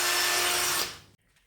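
A Parkside PSBSA 20-Li C3 20V cordless hammer drill bores into wood with a steady, loud whirring drone that winds down abruptly after a second, followed by near silence.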